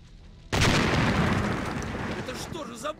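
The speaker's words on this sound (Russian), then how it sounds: "Это что же за бомба такая адская?" A loud, close bomb blast erupts in the Russian-soldier war game Hammer & Sickle after a brief quiet start, then roars on in a long rumbling decay with faint debris and small pops near the end.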